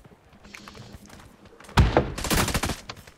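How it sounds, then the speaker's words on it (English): Burst of automatic gunfire in the mobile battle-royale game New State Mobile, a loud rapid string of shots after a quieter stretch of distant in-game noise, with one sharp heavy bang leading into the volley. "Auto fire is insane."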